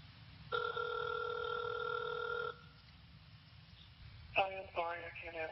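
A telephone ringing on an outgoing call, one long steady electronic ring tone about two seconds long, followed after a short pause by a voice speaking.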